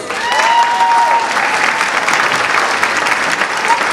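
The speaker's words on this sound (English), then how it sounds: "Round of applause." An audience applauds at a Turkish police association awards and solidarity night in London, a loud burst of clapping that holds steady, with a few voices and a whistle-like tone briefly above it.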